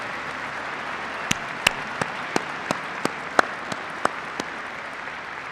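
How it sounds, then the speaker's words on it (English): Troops at a military gathering clap for themselves in a steady crowd-wide patter, with a few sharper, louder individual claps popping out above the wash of applause. "Give yourselves a round of applause."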